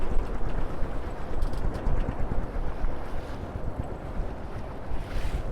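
A sailboat in rough seas off Brittany under a westerly wind, with steady loud wind roar over the mic, churning waves and water rushing against the hull in continuous surging rhythm.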